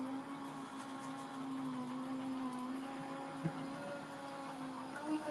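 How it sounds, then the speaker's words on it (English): A die cutting machine cuts circles out of craft material during a crafting session, running with a steady electric motor hum and whir and a small click partway through. "let me go to my die cutting machine real quick"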